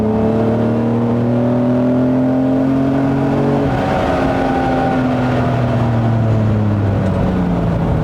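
A classic Aston Martin DB4 accelerates hard through curves, its engine note climbing steadily, dropping at a gear change, then rising again in a loud, close, continuous roar.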